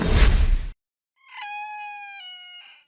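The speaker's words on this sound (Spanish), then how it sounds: "que el canto de un gallo para despertarse por la mañana" A rooster crows once after a burst of noise, one clear, drawn-out cock-a-doodle-doo, close and loud, with no talk over it.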